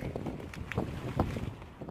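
Gusty wind buffets the microphone with low rumbling bursts, steady and fairly close, with no voices.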